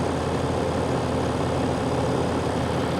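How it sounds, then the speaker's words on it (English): A Cummins turbo diesel truck engine idles with a steady, even low rumble and hiss, close and continuous, with no speech. "Listen how rock solid that engine is."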